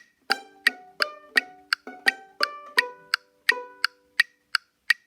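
Violin plucked pizzicato in guitar position, playing section B of the mariachi tune La Negra at 85 beats per minute, with short twangy plucked notes in a steady rhythmic pattern, close and alone.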